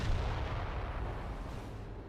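In Company of Heroes, an artillery shell strikes a Flak 88 with a heavy, rumbling boom that rolls on as a dense low roar, loud and close, with no voices.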